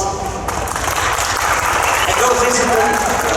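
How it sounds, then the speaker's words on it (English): Comic Con audience in Antwerp applauding at the close of a Q&A with Stephen B. Scott and Mark Ryan, a steady roar of clapping from a large crowd with a few voices mixed in. "I'd say give them a big round of applause"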